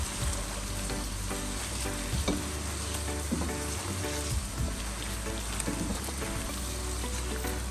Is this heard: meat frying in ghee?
yes